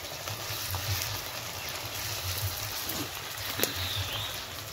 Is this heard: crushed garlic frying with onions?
yes